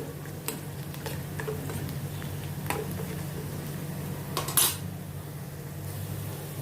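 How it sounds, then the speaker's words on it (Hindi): Cumin seeds sautéed with onion in a pan for dum aloo: a low, steady frying hiss sits under scattered spatula scrapes and light metal taps, with one louder clink near the end. "इसमें मैं थोड़ा ½ टीस्पून ज़ीरा डालती हूँ। प्याज के साथ इसको भी सौते करती हूँ।"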